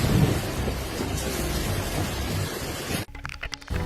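Thunder from a lightning strike a meter away during a hurricane rumbles in a loud, dense roar over heavy rain, then cuts abruptly to a quieter patter of rain and scattered clicks.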